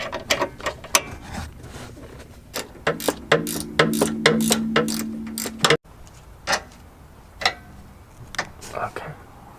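A 16 mm socket wrench ratchets on a suspension bolt of an Alfa Romeo Stelvio, giving a run of sharp, close clicks with a brief steady whir in the middle, followed by scattered metallic taps.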